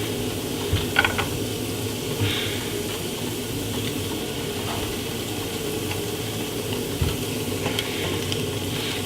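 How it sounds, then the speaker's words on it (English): Garlic sizzles steadily in hot olive oil in a pan, a close, continuous crackle with occasional sharper pops and light stirring scrapes. "It's sizzling up quite nice."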